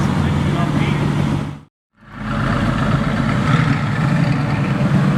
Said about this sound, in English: He's got a beast exhaust.